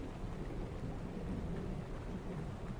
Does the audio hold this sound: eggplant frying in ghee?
no